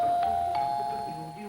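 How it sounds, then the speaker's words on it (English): A doorbell chimes in a Christmas variety comedy show, two quick bright ding-dong strikes ringing out over a lingering hum, faint and brief. "I don't even press the button and the bell rings on it"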